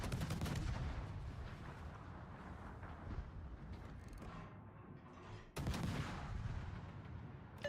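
Battleship guns fire at the Bismarck in a naval video game, with a dense rumbling barrage, then a brief dip and a second sharp burst of loud gunfire.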